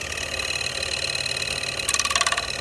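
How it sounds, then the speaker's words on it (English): A scroll saw cuts wood with a steady buzzing whir and a rapid reciprocating rattle, growing harsher and more pulsed near the end. "You can turn corners with the scroll saw."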